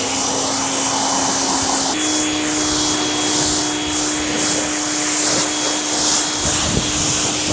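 An Active VE52 pressure washer sprays through a light Yamatic 1/4-inch 50-foot hose, a loud, steady hissing roar with a constant motor whine that shifts pitch once, close and uninterrupted.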